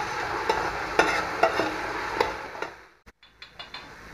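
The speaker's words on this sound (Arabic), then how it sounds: "بقلبهم هيك تقليبتين مع بعض لوقت تدبل البصلة شوي" Onions and coarse whole spices with bay leaves being stirred in a pot for red chicken kabsa, giving a steady frying sizzle with a few scraping strokes, then a short pause and quieter clinks near the end.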